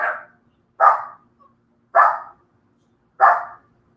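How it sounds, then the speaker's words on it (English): Several dogs bark at a home where cats are rescued. Four sharp barks come at roughly one-second intervals, close and loud, with quiet gaps between them. "I have my dogs making noise."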